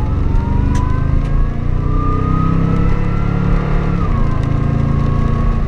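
A supercharged Toyota Tundra truck engine revs loudly up close, with a rising whine climbing over the deep, rumbling roar.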